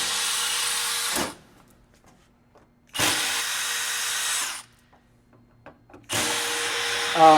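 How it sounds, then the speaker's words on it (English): Cordless electric screwdriver whirring in three bursts of about a second and a half each while driving screws into a kegerator, with quiet gaps between runs and a brief faint rattle before the last burst. "So I don't like to waste time, so I use a screwdriver electric."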